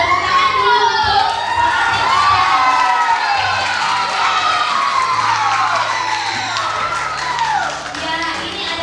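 An audience at a children's Christmas celebration applauds and cheers, children shouting and calling out over steady clapping in a loud, busy hall, with voices mixed throughout.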